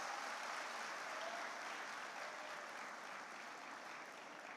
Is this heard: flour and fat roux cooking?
no